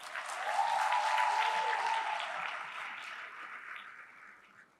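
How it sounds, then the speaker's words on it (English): Audience applause at the closing ceremony of a reproductive health conference, a broad wash of clapping that swells quickly, holds steady, then slowly thins and fades over a few seconds. "Please give everybody a clap."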